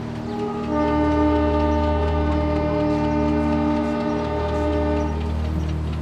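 A train horn blares in a long sustained chord as the train gets moving, loud and continuous over a low rumbling engine drone for several seconds, with no voices.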